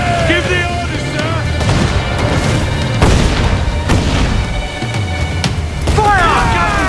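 Ship cannons boom during a naval battle in Assassin's Creed IV: Black Flag, heavy blasts landing one after another amid clattering mechanisms and shouted orders from the crew over the din.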